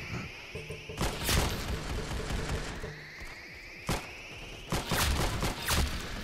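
Rocket explosions strike a player in the shooter game Arsenal, with sharp booming bursts landing at intervals among a busy mix of game effects and gunfire.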